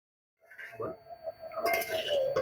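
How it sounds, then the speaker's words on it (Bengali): Vermicelli (simai) stirred while frying in a pot over low heat, with steady scraping and clinking of a spoon against metal that grows busier and louder toward the end, close up and without talk. "এরকম আস্তে জাল দিয়ে অনবরত নেড়ে নেড়ে আমি সিমাইটাকে লাল লাল করে ভেজে নেব"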